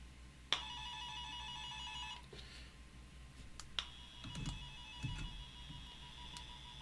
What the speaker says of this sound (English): we should be able to hear tone from the probe.